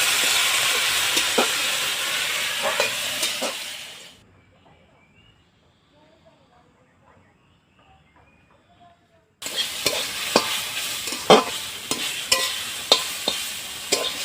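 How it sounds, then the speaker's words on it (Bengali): Pumpkin greens fry in a hot pan with a loud, dense sizzle and crackle. The sizzle cuts out to near silence at about four seconds, then resumes just as strongly until the end. "শাকটা এখন ভেজে নিচ্ছি"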